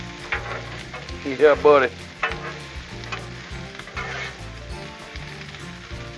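Cabbage and onions sizzle in bacon grease on a Blackstone griddle, a dense steady frying hiss with spatula scrapes and clanks, while someone briefly speaks over it.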